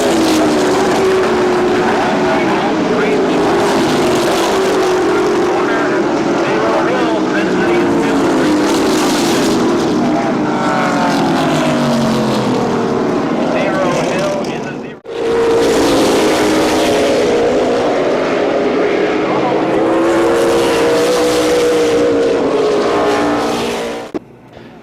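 Race cars at Columbus Motor Speedway roaring around the track in a main event, loud continuous engine noise rising and falling as the pack passes, with a brief dip midway, and an announcer talking over it.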